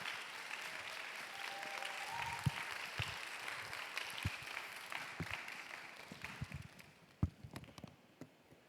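A church youth service congregation claps to welcome a professor to the front, sustained crowd applause that thins out toward the end into scattered single claps.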